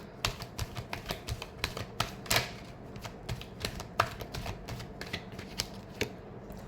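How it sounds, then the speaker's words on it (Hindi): A deck of tarot cards being shuffled by hand, a rapid run of crisp clicks and riffling flicks close up, fairly quiet, with no talking. "Last shuffle."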